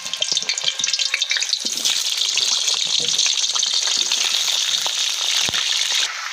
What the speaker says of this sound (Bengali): ওই একই তেলে ভেজে নেব।